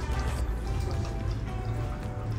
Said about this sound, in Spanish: ¿Escuchan el agua?